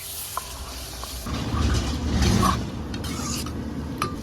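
A spoon stirs dal through thick liquid in a pot, a steady wet churning and scraping that swells in the middle and then settles, with no voices.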